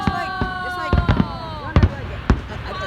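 Fireworks at a Disney-style show go off in sharp, separate booms and crackles, loud and fairly near, with sizzling trails between blasts and people talking faintly in the background.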